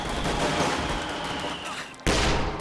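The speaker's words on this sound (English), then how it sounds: "with the light machine gun just suppressing these guys" A light machine gun rattles in the World War II strategy game Company of Heroes 2, sustained rapid bursts of suppressing fire with battle noise around them, briefly easing before a sharp renewed volley near the end.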